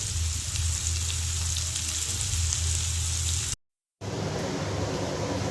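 Potatoes frying in a pan, a continuous close hiss and crackle over a low hum, cut by a brief total dropout before the sizzling resumes.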